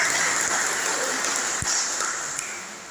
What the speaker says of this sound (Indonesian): Tepuk tangan untuk seluruh kader-kader Jambangan